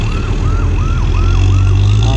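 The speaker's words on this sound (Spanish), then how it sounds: "por eso que va la ambulancia también" An ambulance siren wails on a rain-slicked road in Ecuador, its rising and falling tone cycling steadily and loudly over a low rumble of traffic, with no voices heard.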